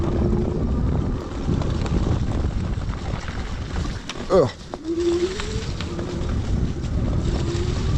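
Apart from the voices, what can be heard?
Onesport Ones3 electric motorbike riding in full electric mode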